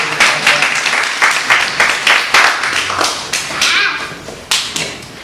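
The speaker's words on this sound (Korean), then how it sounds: "하나님께 우리 박수로 같이" A church congregation applauds together during a worship service, a steady run of claps and taps filling a few seconds with rhythmic bursts, no talking over it.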